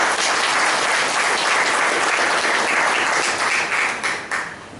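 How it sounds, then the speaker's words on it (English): Meeting audience gives a round of applause after a speech, a loud, sustained wash of clapping from many hands that thins out toward the end. "Let's give her a round of applause."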